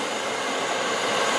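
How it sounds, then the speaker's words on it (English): A hair dryer blows steadily at close range while hair is dried with a round brush, making a loud, even, unbroken whoosh with no voices over it. "We call this power drying."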